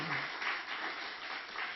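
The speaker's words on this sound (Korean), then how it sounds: "우리 하나님께 영광의 박수를 드립시다" A church congregation claps together in a brief burst of applause during a worship service, a dense patter of many hands with no voices over it.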